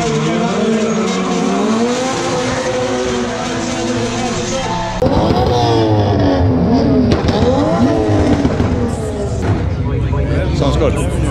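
Drifting cars at a drift event: loud, continuous tire squeal with engines revving and rising and falling in pitch, close and sustained throughout, with people talking over it.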